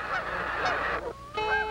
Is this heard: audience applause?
no